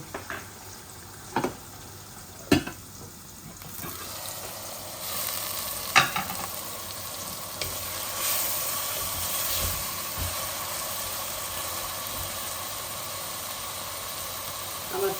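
Meat stir-fried in a pan for a Bangladeshi meat bhuna, sizzling steadily at close range with sharp scrapes and clinks of a spatula against the pan.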